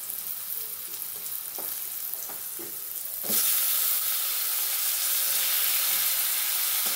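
Tomatoes hit hot oil in a pan for a leafy greens curry, breaking into a loud, steady sizzle about halfway through after quieter frying with a few spoon scrapes; no one speaks.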